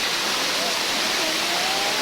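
Sri Getuk waterfall in Gunung Kidul pours in a constant, dense hiss of rushing water, loud and unbroken throughout, with no speech.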